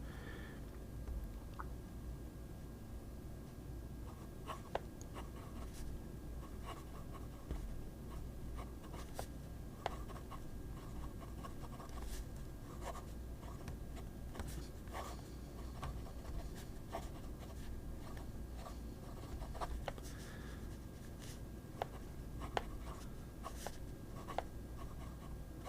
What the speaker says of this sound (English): it may be the best flex nib that I own, because it allows me to write in a normal fashion.